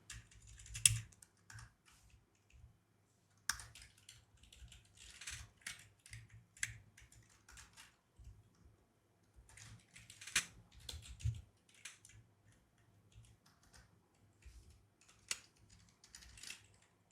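Typing on a computer keyboard while writing CSS code, quiet irregular bursts of key clicks with short pauses between them, close and faint.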